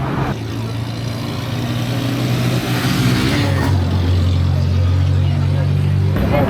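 A long-distance bus engine rumbles and revs as it pulls away from a gas station, a loud, close low drone that shifts pitch midway, with a voice talking over it.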